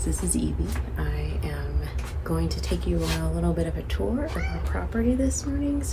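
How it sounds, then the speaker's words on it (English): Several cats meow and yowl repeatedly on a rural East Tennessee homestead in the morning, close and fairly loud, while someone talks over them. "the cats in the background."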